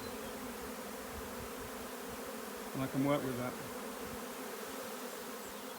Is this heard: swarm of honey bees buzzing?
yes